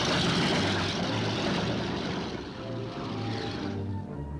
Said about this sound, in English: One every 2 hours, the huge planes thundered into the air.